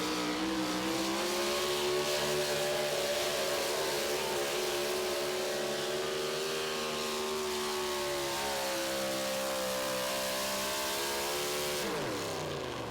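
A Ford four-wheel-drive pulling truck at the Budweiser Dairyland Super Nationals truck pull in Tomah, Wisconsin: a loud, sustained engine roar straining under load, pitch gradually sagging then rising before cutting off near the end.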